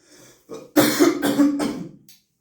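A person coughs a couple of times, close and loud, with a rough throaty quality.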